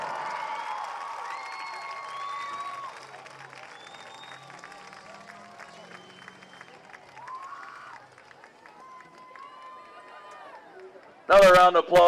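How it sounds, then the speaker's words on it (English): Crowd applause and cheering for the Sayville dance team at a Sayville vs. Harborfields varsity high school football game, steady broadband clapping under music, with a sudden loud burst near the end. "Another round of applause for your Sayville dance team."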